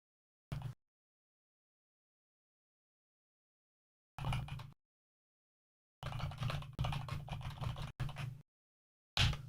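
Computer keyboard typing in short bursts, one brief tap, then a longer run of clattering keystrokes separated by silent gaps, close and fairly quiet with no talking.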